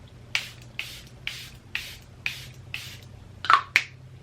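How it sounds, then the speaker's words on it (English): A makeup setting spray bottle is pumped in quick, evenly spaced hissing bursts, about eight in a row, the last two coming closer together. "I'm going to do another round of setting spray to lock everything in place"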